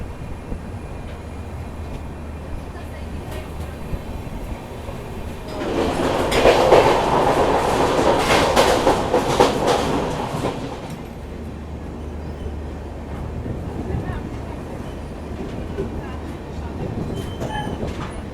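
A Humsafar Express train rolls along the rails in India, its rumble and clatter swelling loud for several seconds mid-recording over steady background noise, then fading back down.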